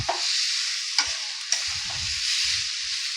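Soybean chunks are stir-fried in hot oil in a pan for a soybean curry, giving a steady close sizzle broken by a few sharp scrapes and clinks of the spatula as the pieces are turned.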